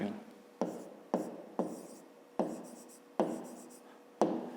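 A pen writes a measurement on paper in quick, close scratchy strokes. About eight distinct strokes follow one another in a steady rhythm, each starting sharply and then fading.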